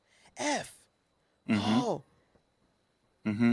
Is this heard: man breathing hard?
yes